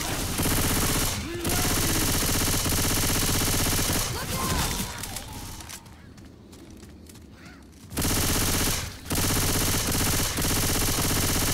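SMG gunfire in Left 4 Dead 2: long, dense bursts of rapid automatic fire, loud and close, broken by a brief pause before the shooting resumes.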